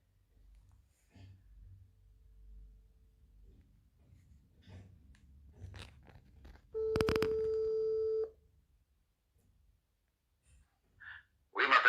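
A phone call goes out and rings on the line: a long steady electronic tone after quiet rustling and handling noises, followed by faint short bursts near the end.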